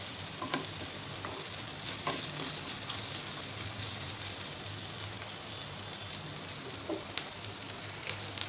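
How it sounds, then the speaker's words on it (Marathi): Ginger garlic paste sautés in a kadhai with a soft, steady sizzle, broken by occasional scraping taps of a spatua stirring it, close and quiet with no talking. "हे आलं लसूण पेस्ट छान परतलेली मिक्स करून"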